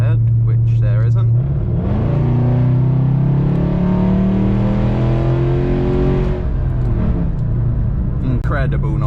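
A 1999 Jaguar XJ8 with its V8 engine accelerating hard from inside the cabin, a loud rising engine note climbing through the revs, then easing off, heard under a voice.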